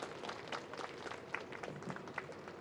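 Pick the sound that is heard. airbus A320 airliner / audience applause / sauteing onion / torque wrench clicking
audience applause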